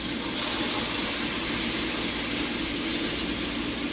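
Slices of challah French toast sear in a hot 12-inch skillet, giving a steady loud sizzling hiss that holds evenly throughout with no voices.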